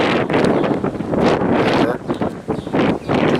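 Strong wind gusts buffet the microphone outdoors beside farm anhydrous application equipment, producing loud, roaring bursts that swell and ease over a few seconds and cover most other sound.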